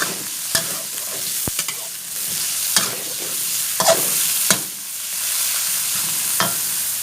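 Pork with garlic stir-fried in a pan, a steady close hiss of frying broken by sharp scrapes and clacks of the spatula every second or so.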